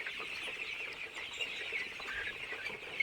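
Nineteen-day-old Bonraj colour bird chicks peep and cheep continuously on a farm, a dense overlapping chorus of many small birds with no voices.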